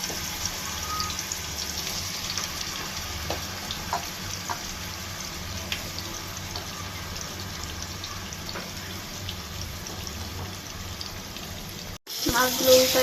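Fish frying in hot oil in a frying pan, a continuous even sizzle at close range with faint pops, a brief cut near the end, then louder handling noise.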